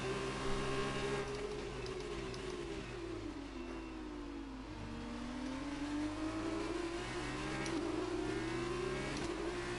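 An F2 car engine in F1 2019 drones steadily as it revs, its pitch dipping and climbing again through a gear change, loud and continuous over about ten seconds with no talk.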